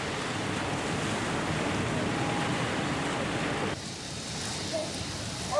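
Strong ocean surf off the San Diego coast, a steady broadband roar of breaking waves with wind noise that drops off sharply near the end, leaving quieter wash and a brief splash at the close.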